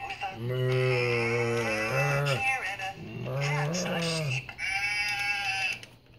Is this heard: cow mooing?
yes